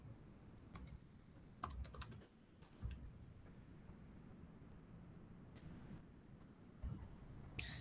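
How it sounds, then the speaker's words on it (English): Keys on a computer keyboard typed in short quiet bursts of clicks with pauses between, close by in a quiet room, while a username and password are entered. "So I will type in my username"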